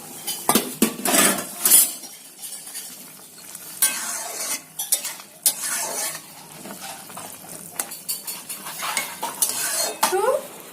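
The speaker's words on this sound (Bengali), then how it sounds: "এবার আমি বড়িটা দিয়ে দিলাম ফুটছে" A pot of sour fish curry with bori bubbles away on the stove while a metal spoon clinks and scrapes against the pot in repeated bursts, close and fairly loud, with no talking.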